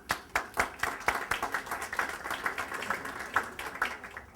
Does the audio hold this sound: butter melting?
no